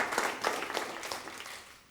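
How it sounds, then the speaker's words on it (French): Studio audience on a televised quiz show gives a short burst of applause, moderately quiet, with uneven clapping that fades out over about two seconds. "Oui, on peut applaudir."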